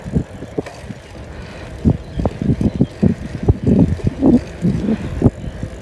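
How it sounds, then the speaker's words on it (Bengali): Cold wind rushes and buffets the microphone in uneven gusts while a Veloce Legion 10 bicycle is ridden on a rainy morning, with low rumbling flutter throughout. "ঠান্ডা বাতাস"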